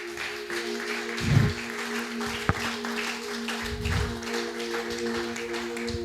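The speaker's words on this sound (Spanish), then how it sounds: "Dele ofrenda de aplauso." Congregation applause during a church service, a steady wash of clapping from many hands under sustained held keyboard tones, with a couple of louder swells and one sharp knock.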